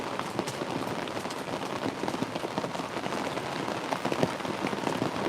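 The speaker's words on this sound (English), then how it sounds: "Well, it's been raining for half an hour now" Spring rain pattering steadily on a hot tent while camping in Michigan, a dense close patter of many individual drops on fabric with no talking.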